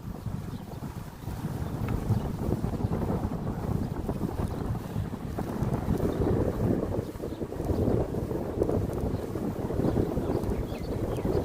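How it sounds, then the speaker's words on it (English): Strong gusty wind buffets the microphone outdoors, a heavy low roar that swells and pulses after a brief quieter start and keeps rumbling without letup. "the wind really kicks in."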